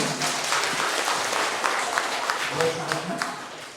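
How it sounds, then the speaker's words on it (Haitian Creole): An audience in a Seventh-day Adventist church applauds during an honour and merit ceremony, a dense, even wash of clapping that stays fairly loud throughout. "Invitez-nous à applaudir, mesdames et messieurs."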